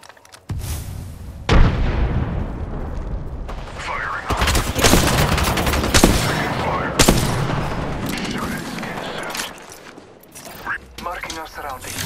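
Gunfire and explosions in a video game firefight: loud, dense bursts of rapid shots and heavy booms, with sharp blasts standing out, while a voice talks over the action.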